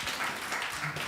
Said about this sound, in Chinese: 我们再一次拍手，将荣耀归给我们的上帝